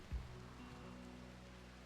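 Rain falls across the map in the RimWorld video game, a faint, steady hiss of rainfall that continues without a break and carries no talk.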